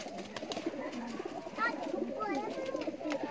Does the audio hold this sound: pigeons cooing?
yes